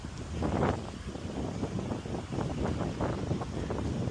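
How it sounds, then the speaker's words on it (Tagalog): Strong wind buffets the microphone in repeated gusts while out kayak fishing, a rough, rumbling roar that surges and dips without pause. "Lakas kaya na masyado yung hangin eh."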